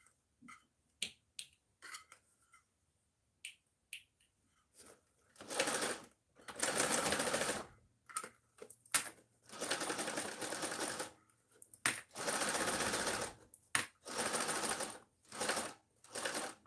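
A sewing machine stitching fabric for a bag at a quarter-inch seam, running in bursts of steady rapid whirring broken by pauses and single clicks as the needle is walked by hand at the corners.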